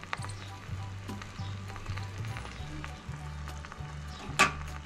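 Pieces of hilsa fish set into a hot pan sizzle softly and steadily, with a low rhythmic hum underneath and a brief clatter near the end.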